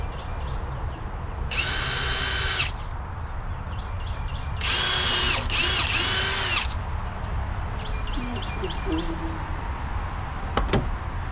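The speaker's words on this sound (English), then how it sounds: "Now we're going to pre-drill" Two bursts of a power drill whining at high speed while pre-drilling wood, the second longer and stuttering, with quieter tool noise and faint clicks between them.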